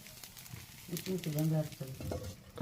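Dosa batter sizzles and fries on a pan over a wood-fired stove, a soft continuous crackle close by with stirring sounds, while voices murmur over it.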